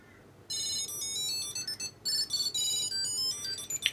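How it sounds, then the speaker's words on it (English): A Tile Bluetooth tracker playing its ringtone, a loud series of high electronic melodic chimes in bursts with short gaps, ending in a brief sharper note. "Let's buzz this tile."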